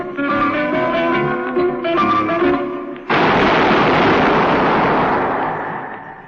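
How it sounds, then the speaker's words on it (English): In a radio crime drama, sustained zither-like music is cut by a sudden loud gunshot sound effect. The single blast booms and rings out, then fades slowly over several seconds. "That was the shot that killed Harry Lime"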